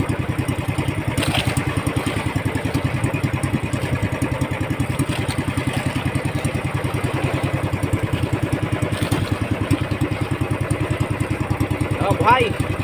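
A fishing boat's engine putters at sea in a loud, steady, regular rhythm that continues throughout, with faint voices now and then beneath it.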